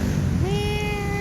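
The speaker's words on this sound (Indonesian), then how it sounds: "Ini ada kucing liar guys di halaman depan." A stray cat in a front yard gives one clear, drawn-out meow that rises and then holds, close and loud over a noisy outdoor background.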